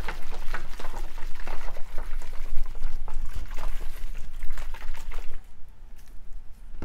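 A closed container of Masterblend 4-18-3 hydroponic fertilizer solution is shaken hard, giving a loud, steady sloshing and churning of liquid that runs continuously and then eases off near the end.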